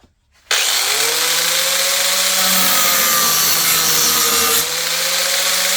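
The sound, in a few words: sharpening a lawn mower deck blade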